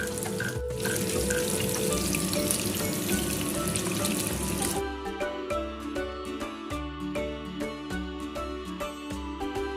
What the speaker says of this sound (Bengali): সর্ষের তেলটাকে খুব ভালোভাবে গরম করে নেওয়ার পরে মাছগুলোকে ছেড়ে দিয়েছি একটু সময় ধরে ভাজতে হবে